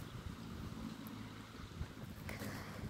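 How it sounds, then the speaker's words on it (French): Outdoor wind buffeting the microphone, a constant low rumbling roar with uneven gusts and small bumps, no voice heard. "s'il y a du bruit, c'est parce qu'il y a du vent dehors"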